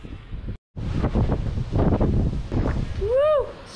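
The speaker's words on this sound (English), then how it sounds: "Super windy" Strong wind buffets the microphone on a kiting beach in El Gouna, Egypt, a loud continuous roar with a brief dropout early on, and a short whistle-like rising tone near the end.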